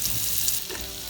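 Vegetable oil and a little butter sizzle steadily in a hot pan, a close, even hiss lasting the whole moment with no talk.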